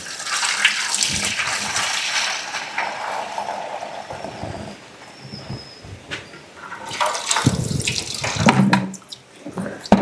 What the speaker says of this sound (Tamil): தண்ணி ஊற்றிடுறா.